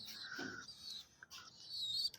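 A pigeon feeds its chicks up close, with thin high cheeping and squeaky calls in short broken bursts, faint overall and without talk.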